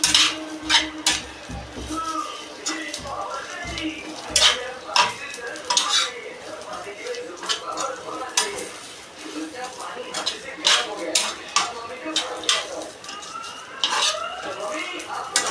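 Grated masala for a drumstick (shevga) curry roasting in a pan on low gas, stirred with a utensil: repeated scraping and clinking strikes against the pan over a soft sizzle, irregular but continuous, with brief talk.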